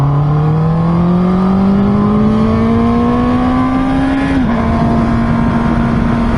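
A Honda CB650R motorcycle engine revs steadily upward in pitch, then drops sharply, all close, loud and continuous with no talking.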